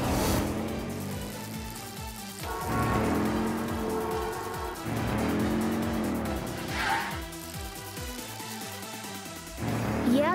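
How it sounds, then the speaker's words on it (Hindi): A cartoon car chase: loud, continuous engine roar with repeated tire squeals and skids in several surging bursts, close and busy throughout, with no talking. "हम लोग एक कार का पीछा कर रहे हैं।"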